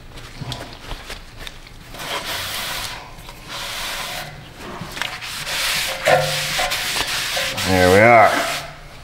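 A rag rubs and wipes over a new brake rotor for a Buick LaCrosse rear brake job, taking off packing oil in repeated close scrubbing strokes, with a brief squeaky rub near the end.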